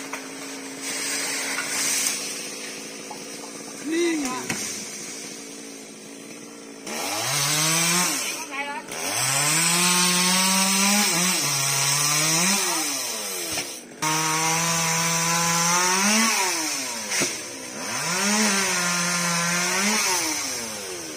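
A chainsaw cuts into a large, decades-old sao tree outdoors, its engine revving up into long, loud bogging cuts and dropping back to idle several times, with a brief idle stretch near the start.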